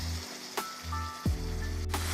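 Ground beef and minced garlic cooking in a pan, giving a steady close sizzle with a few brief clicks and scrapes from stirring, and no talking.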